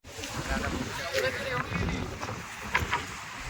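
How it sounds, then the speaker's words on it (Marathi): Strong storm wind buffets the microphone in rough gusts near boats on water, with water sloshing and boat-like noises underneath and a voice talking through it. "वादळ आहे खूप इकडे"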